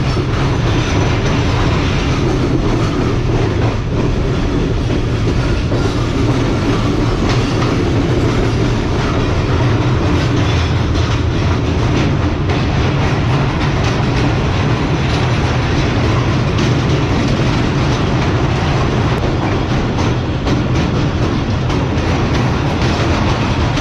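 Karachi Express passenger train running fast on rails, a loud continuous rumble with rhythmic clickety-clack of wheels over joints, steady throughout with no talking.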